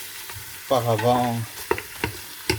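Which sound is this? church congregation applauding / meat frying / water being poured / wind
meat frying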